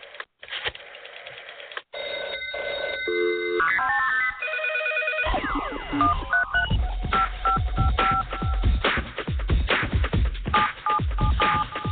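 A series of telephone keypad dialing tones, DTMF beeps for a call-in number, sounds in a fast rhythmic sequence over loud music with a heavy beat, close and clear throughout.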